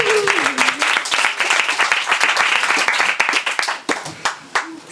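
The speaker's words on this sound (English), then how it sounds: "I think it deserves a second round of applause." Audience applause at a fireside chat event in a Château Papillon hall, a dense steady clapping from many hands that thins into scattered individual claps near the end.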